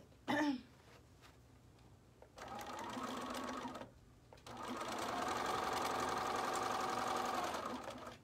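Sewing machine stitching a double-interfaced hat brim with a quarter-inch seam, two steady runs after an opening throat clearing, close and moderately quiet.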